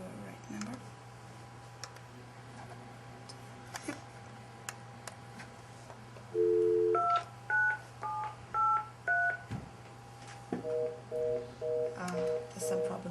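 A telephone number is dialed on a keypad in an office, producing a series of short, evenly paced DTMF beeps in two bursts over a steady low hum, with faint clicks in the background.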